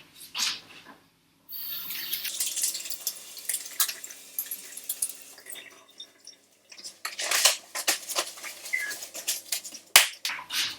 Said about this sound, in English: we're just going to give our hands a nice little wash before we get going